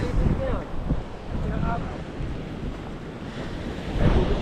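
Strong wind gusting by the water, roaring broadband noise buffeting the microphone with waves washing underneath, loud and continuous, a voice faintly mixed in.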